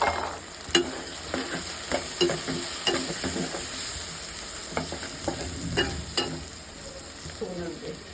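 Pigeon meat fries with spices such as chili, coriander and turmeric powder in a village kitchen, giving a steady sizzle broken by repeated scraping and clattering stirs of a spoon against the pan.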